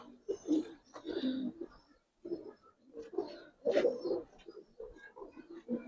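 Soft, low cooing from a pigeon, several breathy coos in short uneven bursts with brief pauses between them, heard close and fairly quiet.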